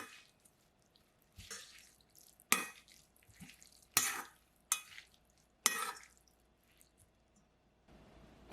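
Cucumber salad is tossed with dressing in a bowl, giving several separate wet squishing and clacking strokes spaced a second or so apart, close and fairly quiet.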